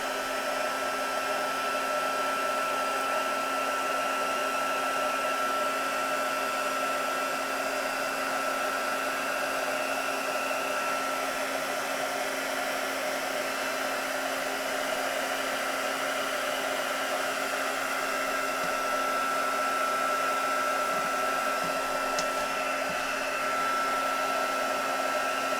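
A heat gun embossing a craft card, its steady, loud blowing hum running unbroken and unchanging throughout, with no talk.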